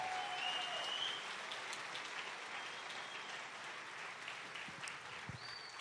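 A church congregation applauds steadily throughout a Feast of Tabernacles celebration service, a dense, even wash of many hands clapping at moderate distance with no clear speech over it.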